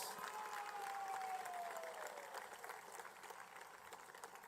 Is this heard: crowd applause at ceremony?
yes